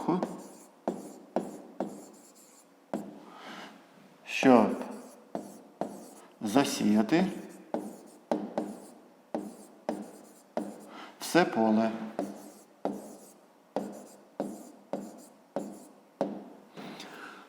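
A pen scratches out a written answer to a fifth-grade math exercise by hand, in a run of short, regular strokes close up, with a voice talking in between.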